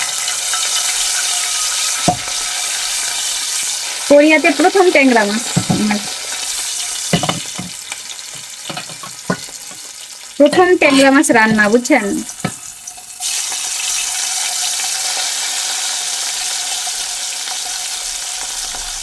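Half a kilo of tengra fish fries in oil with salt and turmeric, a loud steady sizzle close up with occasional stirring, while a voice talks over it in two short stretches.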